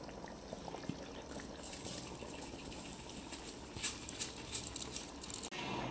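Washed rice pours into a pot of liquid for a mutton biryani, giving a soft steady patter and splashy watery rustle with a few brief louder bursts, close by and with no talking.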